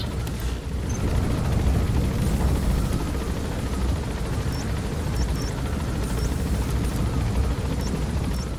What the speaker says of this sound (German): So viel Lärm. Mach den Helikopter aus,